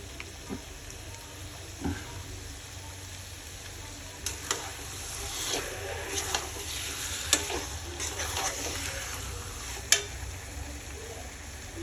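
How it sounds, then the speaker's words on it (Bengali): Bengali-style chicken cooking with yogurt, ginger and garlic in a pan, a steady low sizzle with occasional stirring scrapes and soft clinks, heard without talk. "তো এখানে প্রায় আমার চিকেন কষানো হয়ে গেছে।"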